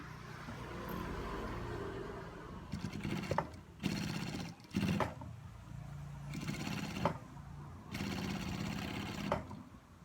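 A sewing machine stitches the side seam of a pair of jeans in several separate bursts of rapid mechanical whirring, with short quiet pauses between runs.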